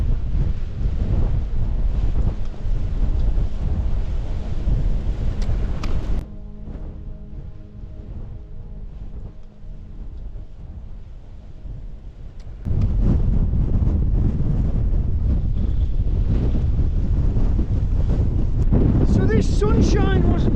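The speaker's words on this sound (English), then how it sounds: "this crazy wind wasn't also forecast. Absolutely blowing like hell on the top of Sail Fell" Strong wind on top of Sale Fell buffeting the microphone in a loud, continuous roar that eases to a lower rumble for a few seconds and then surges back hard.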